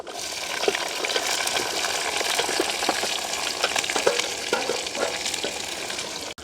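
Shallots, green chilli, garlic and curry leaves sizzle and crackle in hot oil in a pan, a steady close frying hiss with small pops and occasional stirring, no talking.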